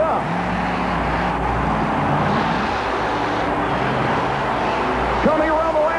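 Four-wheel-drive Ford monster trucks race around a track at a 1991 USHRA event in New Orleans, engines droning and revving continuously in the distance under a commentator's voice.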